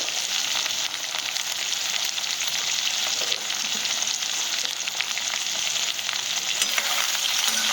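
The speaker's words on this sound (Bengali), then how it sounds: "এটা নেড়ে চেড়ে আমি মশলাটাকে ভালো করে কষিয়ে নেব আলুর সাথে" Potatoes with turmeric and Kashmiri chilli powder sautéed in a pan, a continuous bright frying sizzle with soft stirring rustles throughout.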